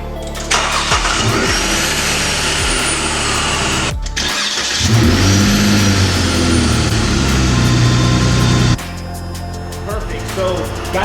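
A supercharged car engine starts and runs after supercharger maintenance, a loud, close, steady drone with a brief dip and a rise in revs, then settling to idle.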